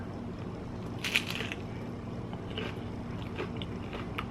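A bite taken into a messy, loaded nacho supreme, giving a brief crunch and squish near the mic, followed by quieter chewing against a low steady background hum.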